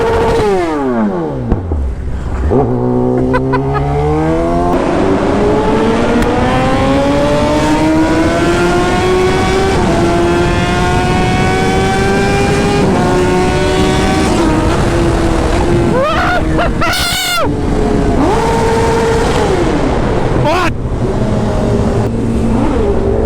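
Kawasaki ZX-10R motorcycle engine revving inside an underpass, loud and continuous, its pitch climbing and falling through repeated throttle blips with a roaring, echoing tone.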